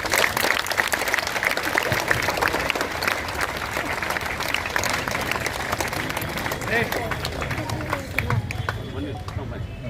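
Students clap together at a junior college Swachh Andhra Swachh Bharat school event, a dense, steady burst of applause filling the room for the full stretch, with crowd murmur underneath.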